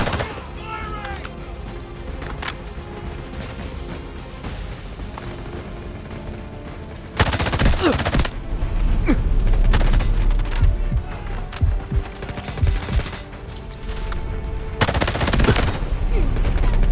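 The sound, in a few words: gunfire in video game Delta Force Mobile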